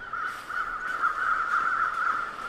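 Crows caw in the survival video game The Long Dark, a run of harsh, repeated calls over a steady tone, with no talking.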